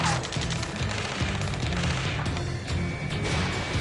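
Heavy video game gunfire from a PS5 Ace Combat career mode battle: dense, continuous rattling bursts and crashing shots, loud and close, with no pause across the whole stretch.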